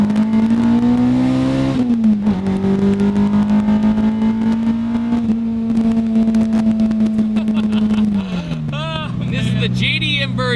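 A Honda Civic with a JDM B18C Integra Type R swap screams at high revs, holding a steady high-pitched note, dipping briefly, then dropping off near the end as a voice cuts in.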